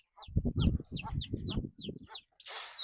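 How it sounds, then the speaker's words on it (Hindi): Several desi (native Indian) chickens cluck in a quick, close series of short calls in a village coop, ending with a brief rustling burst. "ये तो लड़ने वाले, लड़ने वाले लग रहे हैं। देसी मुर्गे हैं।"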